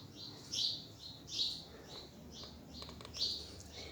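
A sparrow chirps in bright, thin bursts about once a second, small and fairly close against a quiet, faintly hissing background with no voices.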